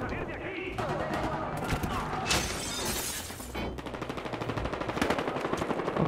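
Automatic gunfire from a Battlefield Hardline shootout, with sustained bursts of rapid shots and some shattering, loud and close, while a voice talks over parts of it.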